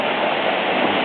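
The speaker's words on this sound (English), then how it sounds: "Mullinahasig waterfall." Mullinahasig waterfall in local woods near Cork, Ireland gives a constant, dense roar of falling water, steady and fairly loud, with no speech over it.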